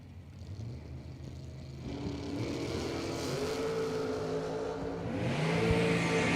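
Camaro and Corvette launching side by side in a drag race, engines building from a steady idle into a rising, loud roar that swells toward the end, with no talk.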